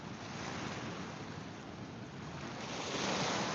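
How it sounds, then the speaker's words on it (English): Ocean waves and widely spaced swells make a continuous broadband roar while out fishing, with heavy wind buffeting the microphone and the wash swelling slightly louder toward the end. "Don't seem like big waves because the swells are spaced out so much."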